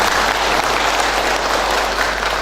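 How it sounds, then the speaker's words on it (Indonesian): An audience claps at a capacity-building gathering of a regional finance office in Indonesia, giving a dense, even burst of applause that fills the whole stretch without pause. "Tepuk tangan."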